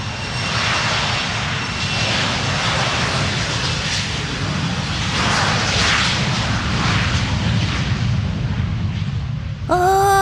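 An airplane engine roars loud and close, a steady powerful drone filling the whole stretch with slight swells, ending with a brief rising tonal sweep.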